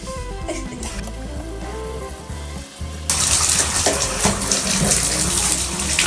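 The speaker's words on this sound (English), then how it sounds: "I'm gonna run some hot water to flush this out a little bit." Hot water runs from a bathtub faucet into the drain in a steady, close gushing stream that grows noticeably louder and splashier partway through and keeps pouring without a break.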